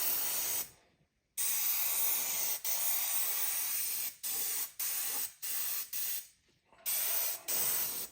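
Bursts of aerosol spray from a Green Stuff World primer can coating a model grain wagon, several hissing blasts of varying length separated by short pauses, close and steady.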